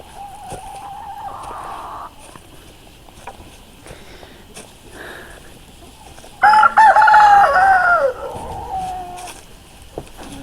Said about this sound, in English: The white rooster's crowing.